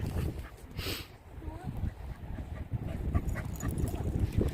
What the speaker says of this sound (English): Everyone's bringing their dogs out now.